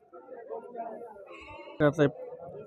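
Goats at a busy weekly village livestock market, with a short double bleat rising clearly over a low background murmur of people talking.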